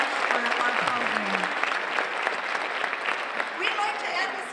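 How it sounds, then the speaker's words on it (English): A school band concert audience applauds the school administration with a full, steady round of clapping that fills the room, a voice briefly audible over the clapping. "So if we could give them a big round of applause"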